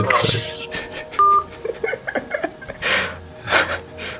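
A short electronic keypad tone sounds once amid close breathing, sniffs and soft handling noises.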